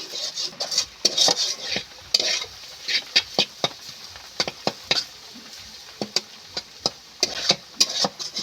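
White brinjal and egg are stir-fried in a pan, with sharp irregular clinks and scrapes of a spoon against the metal over a soft sizzle, close and distinct.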